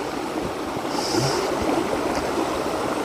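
Water pours steadily at Chikhale waterfall, a constant broadband rush that holds at an even level for the whole few seconds, with no voices over it.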